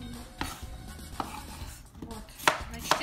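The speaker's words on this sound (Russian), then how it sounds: "Одна луковка это весит. Очень приятно ее крошить." A knife chops an onion on a board in a home kitchen, giving a few irregular, close, crisp cuts over low room noise.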